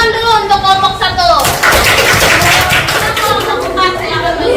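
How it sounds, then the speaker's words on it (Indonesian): Classroom applause for a student group during a primary school lesson, a burst of clapping from many children filling the room over a few seconds, with talk before and after it. "tepuk tangan dulu untuk kelompok 1"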